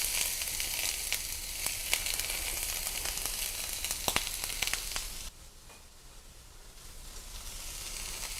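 Garlic and onions sizzle and fry steadily in melted butter for a pot pie filling, with crackling pops throughout, and the sound drops abruptly quieter partway through before building again, with no voices.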